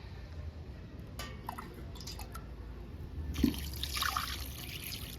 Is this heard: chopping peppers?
no